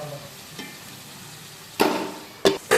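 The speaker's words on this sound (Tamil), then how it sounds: "போட்டு நல்லா வதங்கிறது தக்காளி" Tomatoes sauté in oil in a pan for prawn gravy, giving a quiet bubbling sizzle broken by three sharp scraping stirs near the end.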